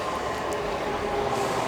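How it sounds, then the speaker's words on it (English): A train at a station, heard as a steady, continuous low rumble with broad mechanical noise that holds at an even level throughout, with no voices over it. "If I rushed, I could have totally got on that train"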